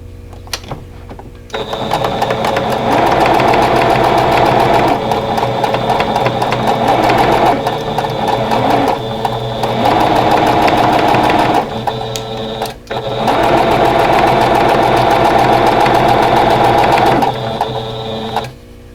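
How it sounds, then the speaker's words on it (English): A sewing machine stitches pinned seams on a quatrefoil quilt block, running in loud, fast, steady bursts with short pauses between runs and no talking. "I'm going to match my seams and pin them and then sew"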